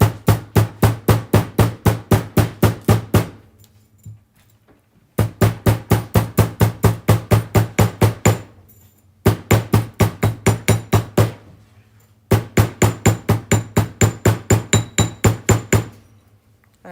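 A metal hammer flattens a piece of jewelry metal in quick, even bursts of about a dozen sharp ringing strikes each, with brief pauses between four close, loud volleys.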